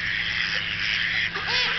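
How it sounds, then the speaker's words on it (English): Ducks quack on Lake Derwentwater in England's Lake District, a few short calls near the end over a steady bright hiss of outdoor ambience. "The ducks are making lots of noise this morning."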